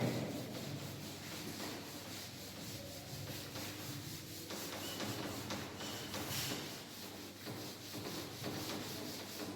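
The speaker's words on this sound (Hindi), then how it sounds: "इसे रब कर रहा हूं" Steady, close rubbing of an eraser across paper while a drawn safety symbol is cleared, a continuous soft scrubbing that runs the whole stretch with faint shifts in pressure and no talking.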